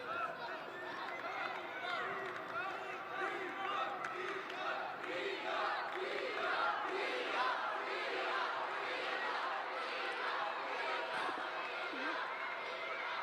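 Stadium crowd at a judo Grand Prix in Tashkent, 2018, cheering on a home Uzbek judoka: a steady, dense roar of many voices with shouts rising and falling throughout, heard from within the arena.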